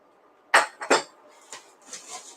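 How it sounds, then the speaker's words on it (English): Ice cubes drop into a drinking glass in the kitchen, two sharp close clinks followed by a few lighter rattles and taps as the cubes settle. "Then what we do is we fill this glass with ice."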